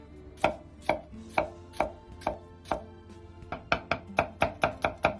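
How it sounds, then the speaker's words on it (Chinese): A kitchen knife chops celtuce on a cutting board into small diamond-shaped pieces, giving about eighteen crisp, close knocks, evenly spaced at first and then quickening into a faster run, with no voices. "再来切莴笋，先斜刀切成小点的菱形块"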